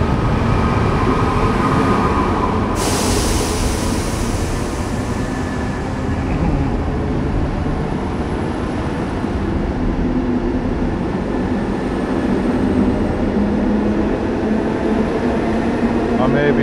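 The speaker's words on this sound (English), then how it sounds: "is our train coming in now" A steady, loud rumbling roar of a train pulling into a station in Belgium fills the space, with a hiss of air and faint station noise throughout.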